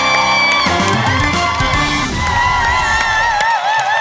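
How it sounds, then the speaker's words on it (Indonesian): A studio audience on an Indonesian TV game show applauds and cheers for a contestant, with loud crowd whoops and yells over blaring musical tones and a host's voice. "Tepuk tangan dulu untuk Sulis."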